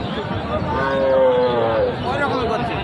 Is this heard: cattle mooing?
yes